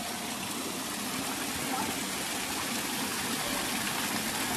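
Water splashing and rushing steadily at the Muktinath bathing spring in Nepal, a continuous close gush with no pauses.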